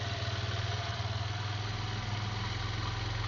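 A Kawasaki Wind 125 motorcycle idles steadily up close, its engine putting out an even, throbbing low pulse with no pauses and no voices.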